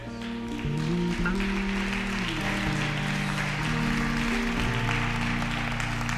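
A church congregation applauds during a pastor's service, with steady, broad clapping sustained throughout over held musical tones from the worship music.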